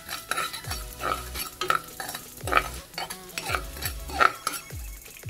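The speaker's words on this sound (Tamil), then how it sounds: "நல்லா பொரியட்டும்." Mustard seeds, fennel, cumin and split urad dal crackle and sizzle in hot oil, with repeated metallic scrapes of a spatula against the pan at a steady rhythm, up close and with no voices.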